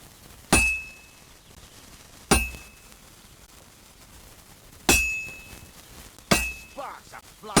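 Blacksmith hammering on an anvil in the video game Kingdom Come: Deliverance II, four sharp ringing metallic strikes spaced a couple of seconds apart, each clang with a bright sustained ring fading out.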